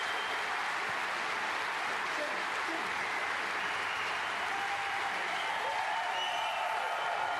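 A packed crowd applauds after the German Masters snooker final in 2024, a continuous roar of clapping that stays broad and steady throughout, heard at some distance under faint commentary.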